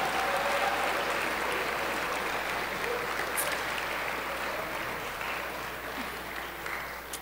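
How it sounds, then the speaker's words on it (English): An audience applauds at a presentation, a sustained wash of clapping that stays loud and fades slightly toward the end. "can we all just give everyone who made this happen a big round of applause?"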